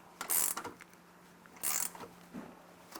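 Ratchet spanner clicking as it tightens M8 bolts that fasten a rooftop tent to Z-Rails on a Toyota Hilux SR5, heard as two short bursts of rapid metallic clicks close by, with a faint tap between them and no talking.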